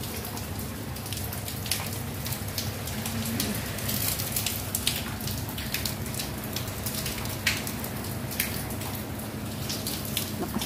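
Heavy rain pours steadily and densely in Jerusalem, a continuous hiss with scattered sharper drops striking nearby surfaces throughout.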